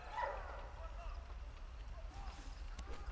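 In the WWI video game Valiant Hearts, a dog barks a few short yips early on amid game sounds and hoof-like clatter, with someone talking over it.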